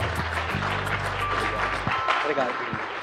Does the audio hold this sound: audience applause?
yes